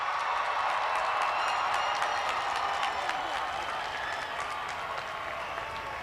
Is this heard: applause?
yes